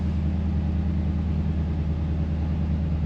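An old, long-forgotten Chevy van's engine running steadily, a low continuous rumble close by, with no voices.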